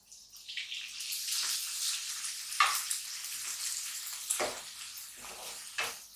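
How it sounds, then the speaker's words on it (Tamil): Chopped tomatoes sauté in hot oil with curry leaves in a pan for Chettinad mushroom masala, giving a steady close sizzle with brief louder hisses as they are stirred. "தக்காளி லைட்டா வதக்குனா போதும்."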